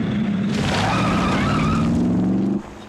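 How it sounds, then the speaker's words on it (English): Tires squeal loudly as a car skids amid street traffic in a late-1980s TV movie, a long rising screech over engine rumble that cuts off sharply near the end. "Sounds like a lot of traffic in your library."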